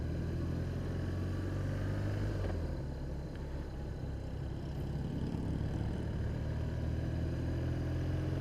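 A Harley Davidson motorcycle engine drones steadily while being ridden, a continuous low mid-pitched hum with faint wind noise, heard at moderate level throughout without a break.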